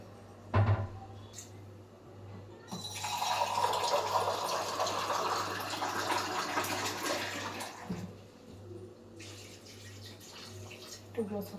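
Two glasses of water are poured into a cooking pot for mutton biryani, a loud rushing splash lasting several seconds, followed by a shorter second pour, with quiet kitchen background between.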